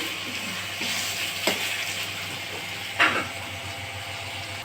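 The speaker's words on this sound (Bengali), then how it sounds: "এই যে মাছের মশলা কষানো হচ্ছে।" Spice paste for a freshwater fish curry frying in oil in a pan, a constant gentle sizzle broken by a couple of sharper spatters and a brief stir, no voices.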